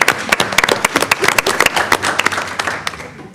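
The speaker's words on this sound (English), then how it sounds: "Let's give a clap for Mr. Warner as well." Applause from an audience at a school board meeting, a burst of many hands clapping steadily at close range, gradually thinning toward the end.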